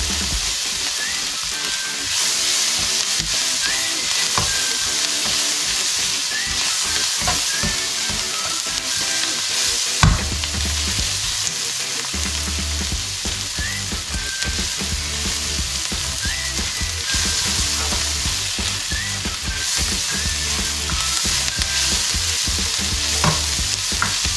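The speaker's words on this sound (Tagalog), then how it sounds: "So yan, okay na yung mga kabalen, itong ating ginisang bawang at saka sibuyas." Garlic and onion sauté in a pan for chicken curry, giving a steady, close sizzle with frequent stirring scrapes and clinks throughout, and no talking.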